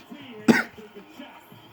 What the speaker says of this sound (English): I'm just getting over a cough.